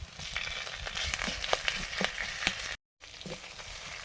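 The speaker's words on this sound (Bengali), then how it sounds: "আদাটা ভাজতে ভাজতে পেঁয়াজটাও ভাজা হয়ে যাবে" Ginger and onion frying in a pan, a dense steady sizzle with small crackles and occasional stirring scrapes, cut by a brief dropout near the end.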